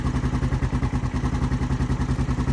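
A four-wheeler's engine running after being cranked, a close, loud, rapid chugging pulse that stays steady throughout with no voices.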